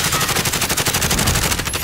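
Rapid automatic gunfire in a battle royale shooter, loud and close, a dense steady burst of shots filling the whole moment with no talk over it.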